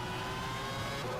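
A racing car engine from a racing game mod hums as a faint, steady, tonal drone over a brief stretch, with no talk.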